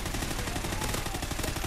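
Rapid, continuous bursts of gunfire in Call of Duty: Ghosts rattle on without a break, loud and dense throughout, with no talking.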